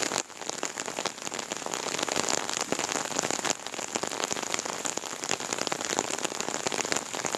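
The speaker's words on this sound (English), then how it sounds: "I took some footage of me out here in the heavy rain" Heavy rain pounds steadily on a surface outdoors, a dense, continuous hiss of drops that stays loud and even throughout, with no voices.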